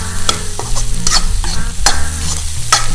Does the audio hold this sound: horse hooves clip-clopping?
no